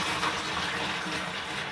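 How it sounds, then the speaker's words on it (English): Hot water gushes steadily into a bucket for washing a fleece, a dense, close, continuous rushing fill without talking. "So we're going to fill this bucket with hot water and about 20 mils of washing up liquid."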